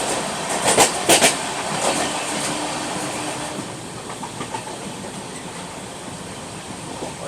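The Rajdhani Express rolls out of Agra Cantt station, its wheels clattering steadily over the rail joints with a rumbling car body, loudest at the start and easing slightly as the train moves on.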